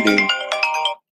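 A phone ringtone, a short bright melodic chime of several tones that rings loud and close for about a second and then cuts off into silence.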